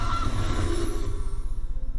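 A goose honks steadily in a digital card game, over a constant low hum and game background sound.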